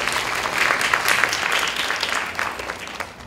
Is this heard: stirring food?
no